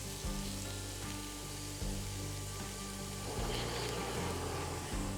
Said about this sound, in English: you're gonna put your cauliflower straight into the pan with all of your other things